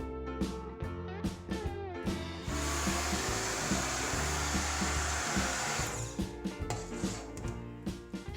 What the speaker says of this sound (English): Puree the soup with an immersion blender.